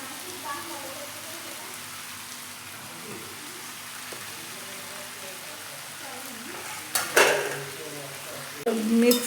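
Cooked rice stirred into fried vegetables in a wok-style pan, with a low steady sizzle and faint scraping throughout, then louder spoon-against-pan scrapes and clinks near the end.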